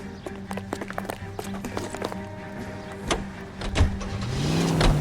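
A car in the crime game L.A. Noire starts up, its engine rising with clunks and door sounds before revving and pulling away, growing louder toward the end.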